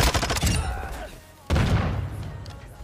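Submachine gun fire in a video game, two loud rapid bursts of shots separated by a short pause, each trailing off into echo.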